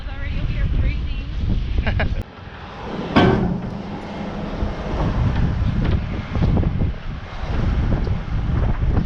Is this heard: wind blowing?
yes